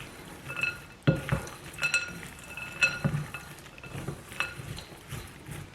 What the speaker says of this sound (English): we're just going to mix this up again